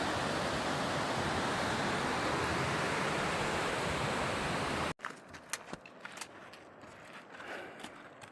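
Water rushes through trees below Lone Pine Lake on the way down Mount Whitney, a steady loud hiss that cuts off abruptly halfway, leaving quieter ambience with scattered small knocks and steps.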